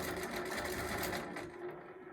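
A longarm quilting machine zigzag stitches along the edge of a quilt label, a fast close mechanical chatter that eases off toward the end.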